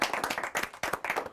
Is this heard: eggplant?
no